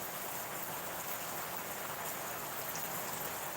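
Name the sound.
heavy rain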